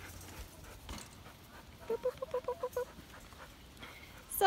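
A girl dog plays with a stuffed toy in a backyard and pants in a quick run of about six breathy bursts. It is close, with quiet background sound and no talking.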